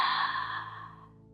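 An open-mouthed ujjayi yoga inhale voicing a breathy "ha," one steady airy rush lasting just over a second, close and moderately loud, fading toward the end with no talk.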